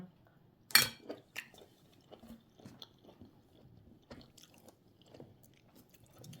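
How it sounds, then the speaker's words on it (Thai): Close, crisp crunching bites of a spicy mushroom salad, with one sharp snap followed by a steady run of softer chewing and occasional faint clicks of utensils. "กรุบกรุบดี เคี้ยวให้ฟัง"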